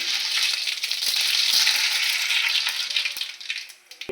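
Cumin and mustard seeds frying in oil for sambar, a sustained crackling sizzle with scattered pops and occasional utensil knocks, fading slightly toward the end.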